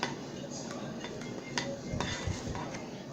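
A utensil stirs slime mixture in a bowl softly and close up, making a continuous faint scraping with light clinks and ticks against the bowl's side.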